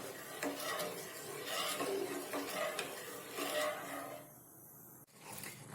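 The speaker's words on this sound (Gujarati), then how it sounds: "તો હવે આને 2 મિનિટ માટે આ રીતે મિક્સ કરી અને હલાવશું, જેથી તે થોડું ઘટ થઈ જાય" Condensed milk is stirred in a pan on a gas stove, a close, soft rasping scrape repeating in uneven strokes that fades near the end before a brief knock.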